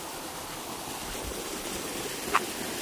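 Steady broadband rush of a waterfall in Atimonan, Quezon, a continuous wash of falling water heard from a middle distance with one brief splash, no voices.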